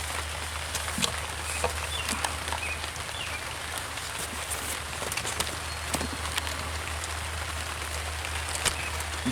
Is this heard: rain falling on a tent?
yes